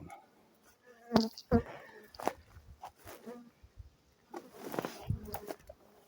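Honeybees buzz in scattered bursts close by from an opened hive, with soft handling noises and occasional rustling between them.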